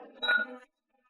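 Glasses clink together in a toast, one short bright ring that fades quickly into silence.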